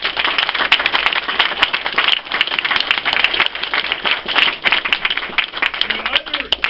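Audience at a governor's speech in Wilkes-Barre applauding and cheering, a dense, loud, steady wash of clapping with voices mixed in throughout.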